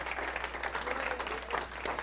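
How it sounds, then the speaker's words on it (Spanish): A church congregation claps, a brief burst of steady, fairly faint applause filling the hall over a low constant hum. "Dale un aplauso a Jesús."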